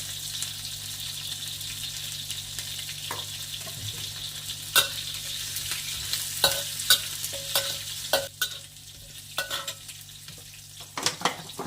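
Garlic, ginger and curry leaves frying with onion in oil, a continuous close sizzle broken by sharp scrapes and clinks of a metal spoon against the pan, with a low steady hum underneath.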